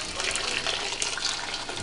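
Hot water at 165 degrees being poured over mozzarella curds with a mozzarella paddle, a continuous close splashing gush of liquid with no pauses.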